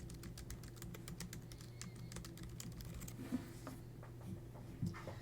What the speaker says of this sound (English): This is where I can type my essay question.